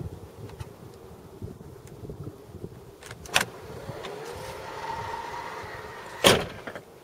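A BMW power tailgate opens by key, a faint electric motor whine rising after a couple of clicks, with a sharp latch clack near the end.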